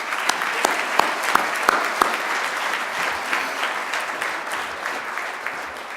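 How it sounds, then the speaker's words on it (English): An audience at a community event claps together in a lively burst. Close, sharp individual claps ring out over a steady wash of applause that eases slightly toward the end. "Would you please give those all a round of applause?"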